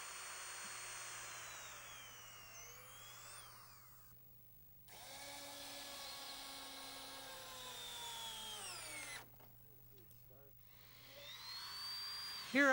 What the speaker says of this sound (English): we drill pilot holes through the decking